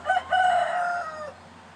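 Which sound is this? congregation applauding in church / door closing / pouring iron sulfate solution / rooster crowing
rooster crowing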